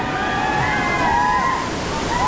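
Broad steady roar of Alitap Falls, a large waterfall, fills the clip with continuous rushing water, with faint whistling tones drifting over it.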